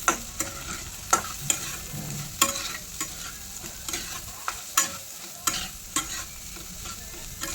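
Fasting-style potato dish with salt and crushed peanut powder stirred in a pan, a spoon scraping and clacking in an irregular rhythm of sharp knocks over a steady low sizzle, close and alone without voices.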